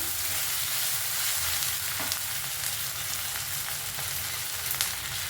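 Onions sizzling in a pan for an okra and tamarind curry, a steady soft crackling fry with occasional faint pops and stirring clinks, no voices.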